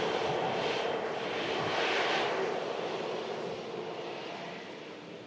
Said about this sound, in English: Lima Bravo, as I say, arriving in from Copenhagen, this aircraft just moments ago.